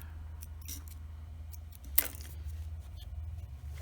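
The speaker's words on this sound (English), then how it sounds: "We'll trim our threads." Scissors snip loose threads on a finished jean hem, one crisp cut standing out over a steady low hum and faint handling noises.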